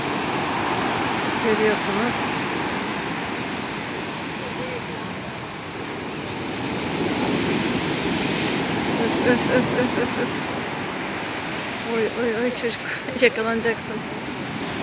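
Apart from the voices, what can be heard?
big rough sea waves crashing on shore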